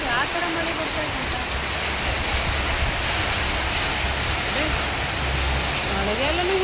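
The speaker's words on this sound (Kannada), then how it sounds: "ಅಯ್ಯೋ ಮಳೆ ನೋಡಿ ಎಷ್ಟು ಹೊಡಿತಾಯ್ತಂತ" Heavy rain pouring steadily, a constant moderate wash of drops on surfaces, with brief bits of a voice speaking over it near the start and the end.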